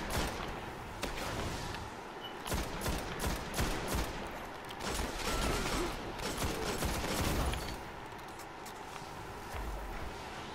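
Dense video game gunfire from Destiny: rapid volleys of shots and bursts fill the whole stretch, loud and continuous, with a few heavier impacts mixed in and no talk over it.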